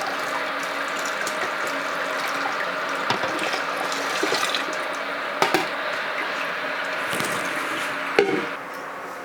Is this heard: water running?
yes